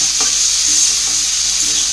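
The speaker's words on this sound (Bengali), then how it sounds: "পটল ভাজা করছি" Pointed gourd (potol) frying in a pan with onion and green chilli, a steady close hiss of oil with a few soft stirring scrapes and no talking.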